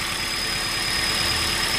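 Car engine idling roughly with a misfire during an ignition coil test, a steady low rumble and vibration running continuously at close range with no talk.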